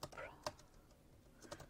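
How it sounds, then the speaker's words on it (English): Computer keyboard typing, a few quiet scattered keystrokes and clicks, close and faint with a short pause in the middle. "by typing this in here"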